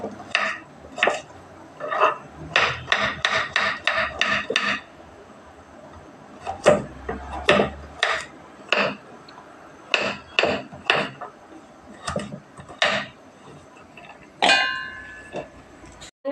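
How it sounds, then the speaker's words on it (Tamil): A coconut being cut for a Madurai-style fish curry, with a series of sharp knocking and chopping strikes in irregular clusters, close and fairly loud, with a few quiet pauses. "தேங்காயை கட் பண்ணிக்கலாம்."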